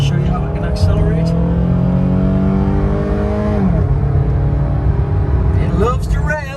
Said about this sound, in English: We're going to hold the car, show you how it can accelerate.